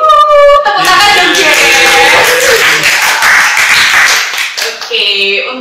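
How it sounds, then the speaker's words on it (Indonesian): A parish audience clapping to welcome a priest, a burst of applause starting after a brief voice and running for several seconds, with speech and tonal voices at the edges. "Tepuk tangan dong"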